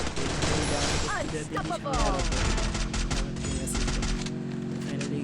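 Rapid bursts of gunfire from the battle royale video game Free Fire, loud fusillades of shots crackling over continuous game effects, with a voice talking over them.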